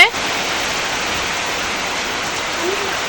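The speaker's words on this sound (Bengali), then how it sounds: "দেখুন বিকালবেলা কেমন বৃষ্টি হচ্ছে" Steady afternoon rain falls in a dense, even hiss that holds unbroken for about three seconds, with no voices over it.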